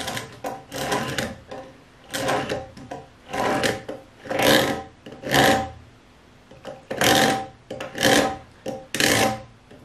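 A marking gauge scratches a tenon line into timber for a greenhouse wind brace: about nine rhythmic rasping strokes, close and fairly loud, with short pauses between them.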